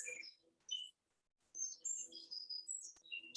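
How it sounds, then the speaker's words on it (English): Small birds chirping outdoors on a sunny day, a string of bright, high tweets and short calls close by, with brief pauses between bursts and no voices. "Listening to the birds."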